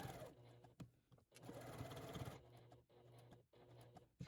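A sewing machine stitching a quilted collage runs in short, close mechanical bursts of rapid whirring, separated by brief pauses where the work is turned.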